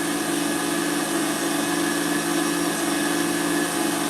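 An electric mixer whisks meringue for macarons, a loud steady motor whir with a constant beating drone throughout.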